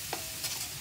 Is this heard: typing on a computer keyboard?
no